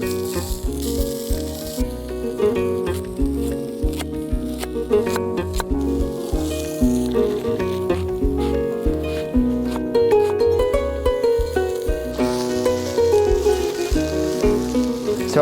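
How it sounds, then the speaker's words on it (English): Onions, carrots, celery, leek and shiitake mushrooms roast in a pan with a steady, close sizzle that runs throughout under tonal background music. "So I'm adding some shiitake mushrooms, which have got a beautiful flavour, earthy flavour that's going to actually roast in this pan"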